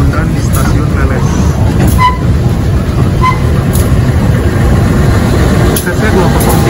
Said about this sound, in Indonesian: Bertemu kereta api Pasundan di stasiun Leles.